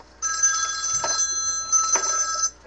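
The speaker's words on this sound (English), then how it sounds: "People calling me on my DM cell phone." A cell phone rings close by with a bright, steady electronic tone, sounding in two short bursts before cutting off.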